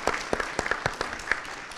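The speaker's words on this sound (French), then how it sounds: "Je demanderai de l'applaudir" Scattered, light clapping from a small seated audience at tables, a handful of distinct claps rather than full applause, fairly quiet with no talking.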